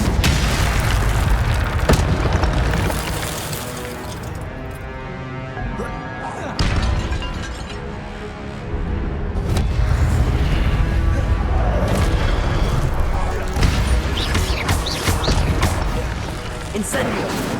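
Fire spells cast in Hogwarts Legacy burst out as repeated heavy booms and crackling blasts over a continuous game soundtrack, several loud impacts spread across the stretch with brief lulls between.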